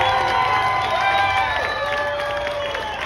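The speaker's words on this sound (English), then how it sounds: "Give him a round of applause" A crowd at a health freedom rally cheers, whoops and applauds for Representative Phil Lyman, a loud, sustained burst of voices and clapping that tapers slightly toward the end.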